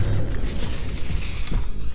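A video game explosion blasts at the start, a heavy low boom that tails into a dense, sustained rumble with a second thud near the end, loud and with no talk over it.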